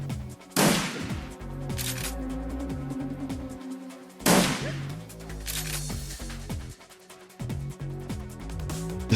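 Gunfire in the Shadowrun Returns video game comes as two loud blasts several seconds apart over a steady game soundtrack, with smaller hits and thuds in between.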